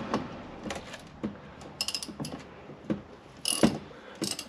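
A ratchet wrench loosens the 10 mm nut on a car battery's positive terminal, making quiet, close bursts of rapid clicking with short pauses between strokes.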